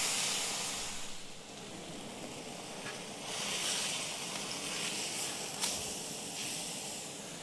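Tri tip sears on a soapstone heated to about 500 degrees, giving a steady, fairly faint sizzling hiss that swells slightly as the meat settles, with no talk.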